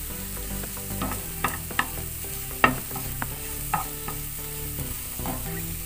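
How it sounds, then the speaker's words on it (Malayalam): Tomatoes sauté in butter over a low flame with steady soft sizzling, while a utensil stirs through them in several distinct scrapes and taps against the pan. "അതുവരെ ലോ ഫ്ലെയിമിൽ നന്നായിട്ട് സോട്ട് ചെയ്യാം, ഇളക്കി കൊടുക്കാം."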